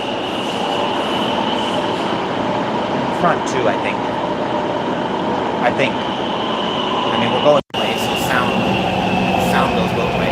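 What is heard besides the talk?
metro train running, noisy train car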